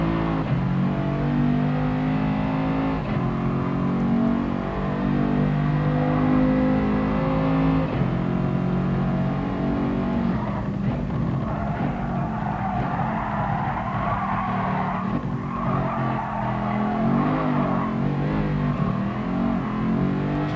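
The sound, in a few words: race car wheel spin in fourth gear, video game GT Sport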